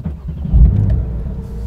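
Porsche 911 Sport Classic with a manual gearbox and 3.7-litre flat-six: the engine cranks and catches with a deep, loud low-pitched rumble, settling into a throbbing idle close by.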